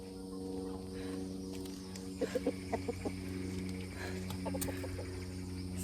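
A pet chicken kept indoors makes a few short clucks in two quick bursts over a steady background hum, moderately close and fairly quiet.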